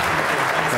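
Audience applause after a talk on commercial opportunities in the property industry, a steady dense wash of clapping throughout, loud and close.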